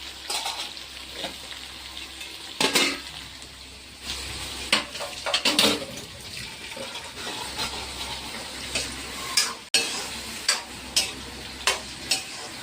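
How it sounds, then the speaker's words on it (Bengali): Onions fry in a pan on a home kitchen stove, a steady low sizzle broken by repeated scraping stirs and occasional utensil clatter, with no one talking. "এটা ভাজা হইতে সময় লাগবে তো, পেঁয়াজটা ভাজা হইতে লাল হইব"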